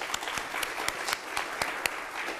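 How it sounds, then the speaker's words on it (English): A church congregation at a traditional service applauds the youth camp organizers, a moderate, even patter of many hands with a few sharper individual claps standing out. "A round of applause."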